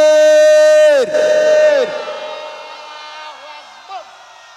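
A crowd loudly chants the takbir, Allahu Akbar, at a religious gathering, the sustained unison voices stretching long on one breath before breaking off and fading into scattered shouts.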